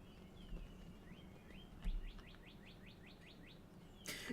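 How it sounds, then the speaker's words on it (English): Songbirds chirp outdoors in springtime, a quick series of repeated rising tweets in a steady rhythm, fairly faint and distant over a quiet background, ending with a brief louder rustle. "Sorry about the birds"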